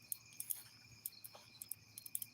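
Crickets and cicadas on a summer night, a faint steady high-pitched chirping drone with irregular pulsing chirps, heard alone in a quiet outdoor setting.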